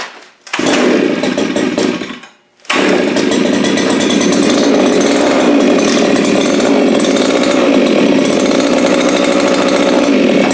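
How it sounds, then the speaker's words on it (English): A Viper ice auger's small two-stroke engine screaming at wide open throttle, loud and close, with a brief dip in the revs before it roars back and holds steady. "That's wide open throttle."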